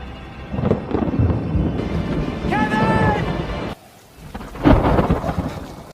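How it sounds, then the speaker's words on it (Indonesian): Thunderstorm with heavy rain in the Amazon forest: loud rumbling thunder and dense rain roar, swelling and falling, with a sharp drop near the middle before another heavy rumble. "Setelah semalaman turun hujan dan hanya berteduh di bawah bebatuan"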